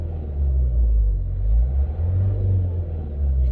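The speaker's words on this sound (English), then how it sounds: "You can see there as I'm accelerating the car," A car engine revs up while accelerating, a deep low rumble swelling and easing in waves over a few seconds, fairly close and without talk.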